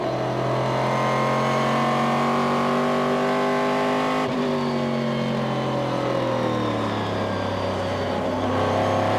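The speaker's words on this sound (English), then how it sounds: "Hear the engine squeal as it goes under the bridge." Onboard a sports prototype race car at the 2000 Petit Le Mans, its engine squeals at about 160 mph under a bridge. A loud, steady, close high-pitched whine holds throughout, with a brief pitch dip midway.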